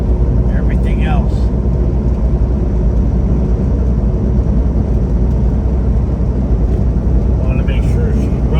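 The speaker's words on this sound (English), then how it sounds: "I like to listen to the truck." Steady low truck engine rumble with road and tire noise from inside the moving truck, continuous and fairly loud throughout.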